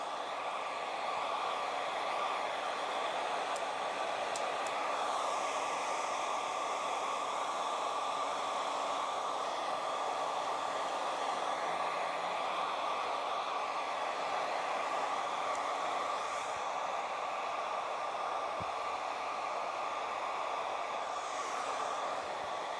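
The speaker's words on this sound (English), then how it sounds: "I really just want to blow dry this straight down" A hair dryer blows steadily while a bob haircut is being blow-dried straight down, a continuous close airy roar with a fixed tonal whine that holds an even level throughout.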